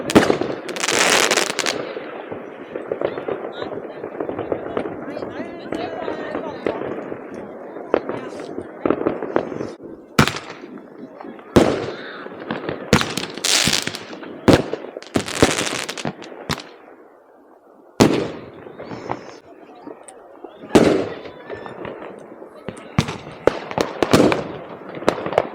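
New Year fireworks and firecrackers in Norway crackle and boom in dense bursts, with sharp loud bangs near and far, and brief lulls between volleys.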